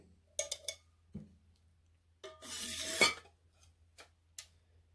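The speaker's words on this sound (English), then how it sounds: "If you take the lid off of here" A lid comes off a stainless steel bottle with a few quick metallic clinks and a short scraping twist, close and fairly quiet, followed by light taps.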